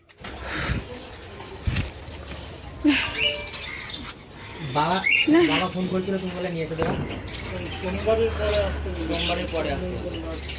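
A pair of lovebirds chirp and tweet in a series of short, bright calls at close range, mixed with a person's voice and background noise.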